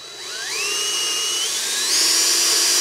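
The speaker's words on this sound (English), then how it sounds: "and then I'll drill it" A drill bores into a gray cast iron vise, a steady close high-pitched whine that rises in pitch as the bit bites, alone with no talking.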